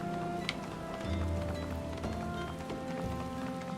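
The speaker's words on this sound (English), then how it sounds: "it's raining" Steady rain patters across a Final Fantasy XIV game scene, a constant wash of drops on surfaces with a brief sharp tick near the start and a low ambient hum beneath.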